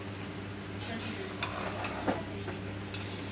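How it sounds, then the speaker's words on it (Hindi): Bottle gourd halwa being stirred in a pan as its sugar melts, a steady close scraping and soft bubbling sizzle over a constant low hum, with occasional light clinks of the spoon against the pan. "ये बीच बीच में चलाते रहें, बहुत टेस्टी बनेगा ये।"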